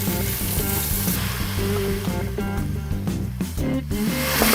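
Chunks of beef brisket browning in a pressure cooker, giving a loud, steady sizzle with crackling bursts that runs without pause and without any talking.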